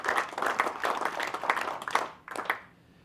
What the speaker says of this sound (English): another round of applause for Abraham for the message that he has shared